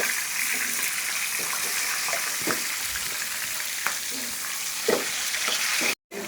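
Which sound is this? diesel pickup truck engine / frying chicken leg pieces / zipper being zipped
frying chicken leg pieces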